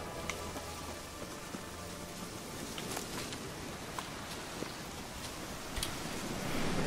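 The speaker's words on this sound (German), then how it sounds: "Tja, Regen." Quiet, even rainfall in The Witcher 3 patters on surfaces with scattered drop clicks and a faint rustle, swelling slightly toward the end, with nobody speaking.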